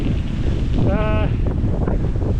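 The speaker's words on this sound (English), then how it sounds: "Wind's picking up now." Strong wind gusts ahead of Storm Kieran buffet the microphone along the gravel Bowes Railway Trail, a constant loud rushing roar with a brief tonal whine rising out of it midway.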